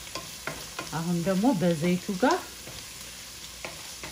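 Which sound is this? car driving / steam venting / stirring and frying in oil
stirring and frying in oil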